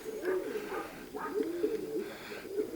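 Pigeons coo nearby in repeated soft, throaty phrases, a few rounds of rolling calls over quiet background, with no talking.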